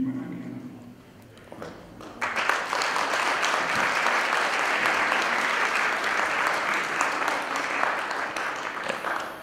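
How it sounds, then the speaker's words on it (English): A crowd at a film and philosophy symposium keynote breaks into loud, sustained applause after a quiet moment, dense clapping holding steady until the end. "As you can hear, there's an enthusiastic crowd here"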